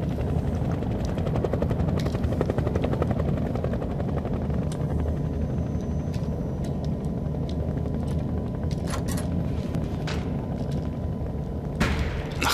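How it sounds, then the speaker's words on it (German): A helicopter in the horror video game Nightmare House 2 gives a steady, loud rotor drone that lasts throughout, with a few sharp thumps and clanks late on. No one speaks. "Okay, da ist der Heli."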